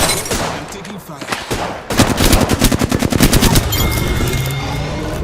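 Rapid automatic gunfire in the battle royale game Apex Legends, a loud close burst of evenly spaced shots lasting a couple of seconds amid other game noise and brief voice.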